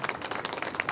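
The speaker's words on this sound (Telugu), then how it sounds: "శ్రీనివాస్ వాళ్ళ బ్యాచ్ ఈ ప్రోగ్రామ్ను సక్సెస్ చేసిన వాళ్ళు టోటల్ వాళ్ళకు మనమే క్లాప్స్ కొట్టుకున్నాం" Brief burst of hand clapping from a crowd at a silver jubilee celebration, applauding Srinivas's batch; dense, steady claps throughout the second at moderate loudness.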